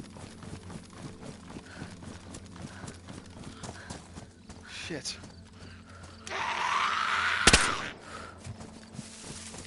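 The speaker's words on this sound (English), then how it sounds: "Just heard footsteps over there." Footsteps in the DayZ video game tread at a steady, quick rhythm, with a louder noisy burst partway through and a brief curse spoken near the end.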